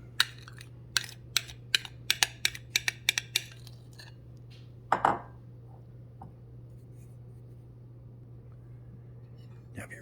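Spoon clinking and scraping against a cup while stirring thick whipped dalgona coffee, a quick run of sharp taps in the first few seconds, one more louder clink midway, then quiet, over a steady low hum.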